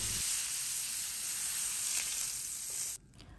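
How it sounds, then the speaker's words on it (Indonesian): Butter and a little cooking oil sizzle in a grill pan, a steady loud hiss close up that cuts off abruptly near the end. "Panaskan butter sampai meleleh di atas grill pan. Saya tambahin minyak goreng sedikit"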